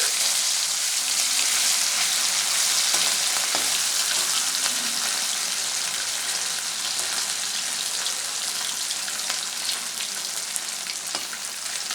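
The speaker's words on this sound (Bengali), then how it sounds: "মাছগুলো দিয়ে দিচ্ছি" Small chuno fish for a spicy jhal fry crackle in hot oil in a pan, a dense, loud, continuous sizzle with occasional sharper pops and faint stirring.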